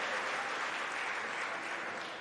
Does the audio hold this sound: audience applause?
yes